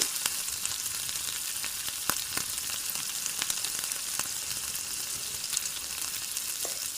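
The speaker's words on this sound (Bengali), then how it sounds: "দিয়ে দিলাম কিছুটা জিরে ফোড়ন" Cumin seeds hit hot oil or ghee in a pan, crackling and popping in scattered sharp spits over a continuous bright sizzle, close by, with no voices.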